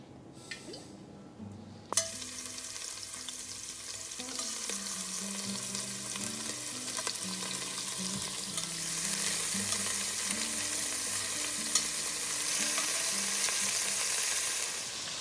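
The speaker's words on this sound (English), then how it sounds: "I will brown the beef in this 5-quart Dutch oven." Beef browns in avocado oil in a 5-quart Dutch oven. A sharp clink opens a loud, steady sizzle that holds throughout with occasional light scraping.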